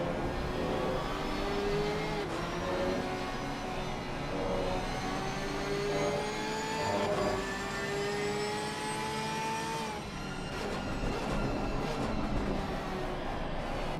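A Pfaff Motorsports Porsche race car driven hard at Spa-Francorchamps in Assetto Corsa, its engine wailing steadily with rising and falling revs through gear changes, joined by other cars' engine tones in a dense, continuous racing din.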